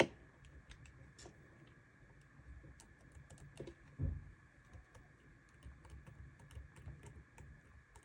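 Typing on the keyboard of an HP 640 G3 laptop: a steady run of light, quiet key clicks with one slightly heavier thump partway through, over a constant low hum and with no voices.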